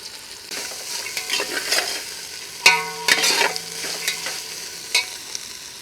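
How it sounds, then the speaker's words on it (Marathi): Pavta beans are sautéed in a pan for pavta rice, with a light sizzle under repeated scraping and clattering strokes of a spoon against the pan, fairly close and loud. "1 मिनिटभरासाठी हे दाणे पण परतून घेणार आहोत"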